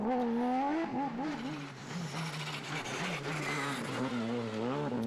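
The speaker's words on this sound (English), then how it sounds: "Spectacular driving from Sneyers as always with his Porsche." Porsche rally car driving a stage of the Spa Rally in the Belgian Rally Championship, its engine loud and close, rising and falling in pitch through gear changes across a few seconds with no talk.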